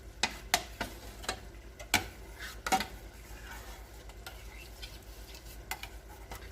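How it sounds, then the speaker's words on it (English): Food sautés quietly in a pan, with scattered utensil clicks and scrapes against the metal near the start and a faint, low sizzle beneath, tapering off toward the end. "Let that saute in there."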